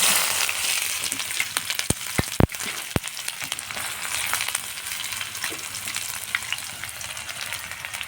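Chopped onions fry in oil with mustard seeds, giving a steady close sizzle broken by a few sharp pops and crackles early on, with no talking.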